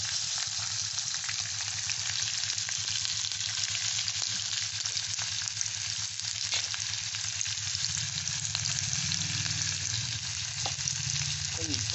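Chopped onion frying in white oil over high heat, a steady dense sizzle running the whole time with faint stirring scrapes, close and loud and with no voices.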